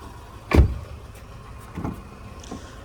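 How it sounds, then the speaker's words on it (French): Electric power windows on a Renault Scenic 1.2 TCe 115 hp Edition Bose hum as they move: one close, loud motor run followed by two softer, shorter ones inside the quiet car. "Hop, vitres électriques."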